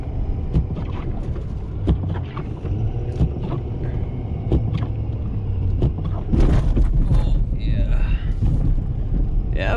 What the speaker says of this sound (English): I had to drive up and plow my way out.